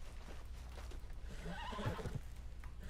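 A horse whinnies in Red Dead Online, a short rising neigh heard moderately close over a low steady background hum, with a few hoof clops around it.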